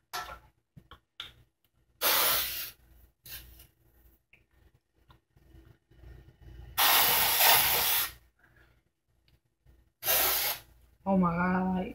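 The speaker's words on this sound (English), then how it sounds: "I got a dry shampoo. Let's spread my hair." Aerosol dry shampoo sprayed onto hair in several loud, broadband hissing bursts of one to two seconds each, separated by quiet gaps and brief talking.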